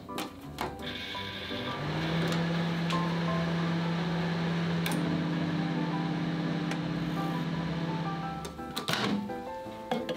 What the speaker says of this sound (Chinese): 红薯和南瓜放到微波炉里高火打2分钟。